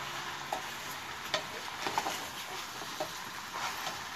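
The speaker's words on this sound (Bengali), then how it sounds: "এবার এটাকে আমরা ভালো করে মিক্সড করব।" Meat and cubed onions are stirred and mixed in a pan for kata moshla gosht, with soft sizzling under intermittent scraping strokes of a spoon, fairly quiet and close.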